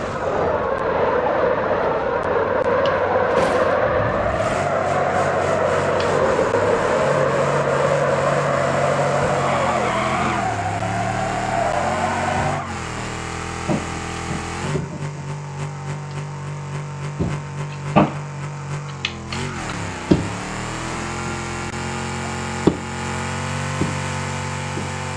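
Car at a car jump arena, engine roaring hard and steadily for about ten seconds, then dropping to a rougher, lower running note broken by several loud clunks and bangs, heard alone and close.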